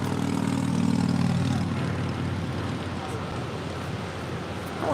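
Hawaiian Airlines Airbus A330-200 jet taking off at LAX, a steady, loud engine roar that swells early then holds as a broad rumble throughout.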